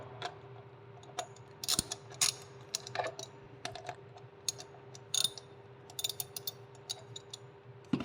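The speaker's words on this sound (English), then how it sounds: "I just ratchet it down and it'll start to pull the" A ratchet clicks in short bursts while tightening a T-nut through a cycling shoe sole. Crisp, close pawl clicks come in irregular groups over a low steady hum, with no talking.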